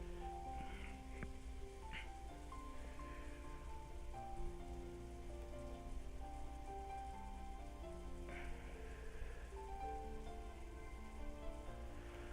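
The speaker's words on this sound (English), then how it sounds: "she wrapped up in the soft sound of the rain" Soft steady rain falls under gentle melodic background music in the Umineko When They Cry visual novel, a quiet even patter with no voices.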